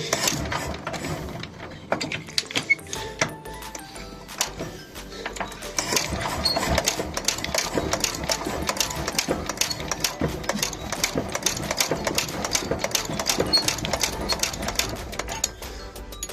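An old Petter PA2 petrol engine runs with a rapid, uneven mechanical clatter and ticking that continues steadily for the whole stretch, close by, with no talking.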